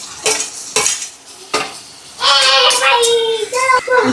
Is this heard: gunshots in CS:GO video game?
no